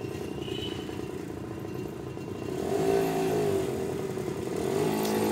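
A vehicle's engine accelerates during driving-school turning practice in Chennai: a steady low mid-pitched hum that swells louder about halfway through and holds, with no one talking.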